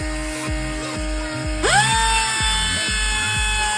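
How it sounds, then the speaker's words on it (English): Angle grinder cutting a groove into a steel axle, a loud steady whine with rhythmic low pulses, rising in pitch partway through as the disc bites, close and continuous with no talking. "Personally, I like to start with the grinder first. This way I can create that groove"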